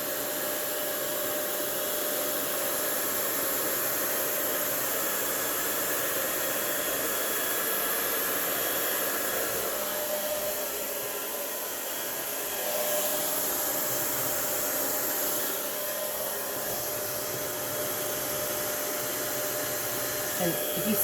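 A hair dryer on its cold setting blows a steady, loud broadband rush of air for the whole stretch, drying acrylic paint on bath bombs, with only slight dips in strength and no talking.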